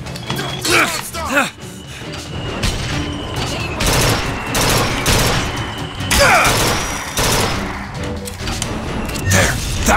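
Bursts of gunfire in the Bioshock Infinite shooter game, rapid repeated shots and crashes clustering through a noisy firefight, loud and close, with someone talking over the action.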